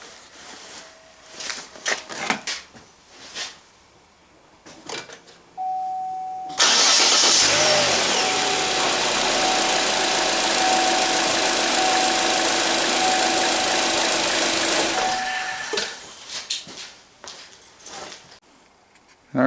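A 2014 Chevy Cruze cranks and fires up after a battery replacement, then settles into a loud, steady idle for several seconds before the engine noise drops away, with faint shuffling and handling sounds before and after.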